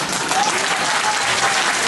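An audience at a Hindi stand-up comedy show claps steadily, a dense continuous patter of many hands at close range, with no voices heard over it.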